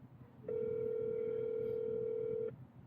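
A steady telephone tone sounds during a Magic Jack call to a trucking dispatcher: a single continuous beep lasting about two seconds, loud and clear over a faint background hum.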